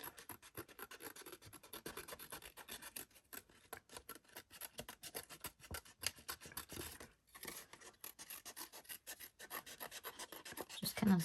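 Scissors trim a paper Christmas tag, a close, quiet run of rapid rasping snips and paper rubbing that continues with only a brief pause, no voices.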